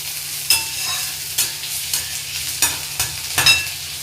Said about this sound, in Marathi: कांदा चांगला भाजून झाला आहे आता आपण यात कोकम घालूया